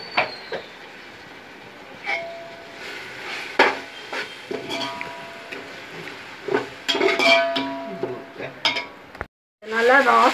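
Ginger garlic paste fries in a pot for mutton biryani, with clattering stirs and scrapes of a spoon against the metal over a low sizzle. A brief silence comes near the end, then a loud burst of sizzling.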